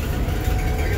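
Ford E Series van with a faulty transmission running in third gear, giving a loud, dense, low engine and drivetrain drone that stays steady and close throughout the short moment.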